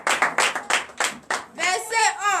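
A church congregation in Comè, Benin claps in acclamation, several sharp, evenly spaced claps close by, then voices and cheering rise as the clapping fades.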